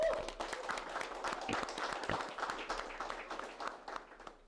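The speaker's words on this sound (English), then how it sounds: "So for that, I think he deserves a clap," Scattered claps from an audience at an interview event in Bangladesh, a fairly faint, uneven patter of hands rising and fading over a few seconds.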